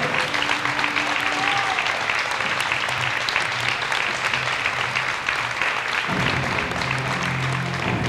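Sustained audience applause for youth football team players at a club team presentation, steady dense clapping from a crowd throughout, loud and continuous.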